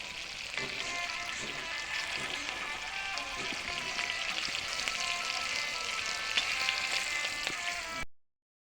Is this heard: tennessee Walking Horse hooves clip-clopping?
no